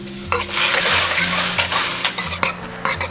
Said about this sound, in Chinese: 锅中倒入60克清水，100克白糖，中小火熬。